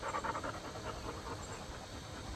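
A dog pants steadily and close by in quick, rhythmic breaths over a constant broadband hiss, with no one talking.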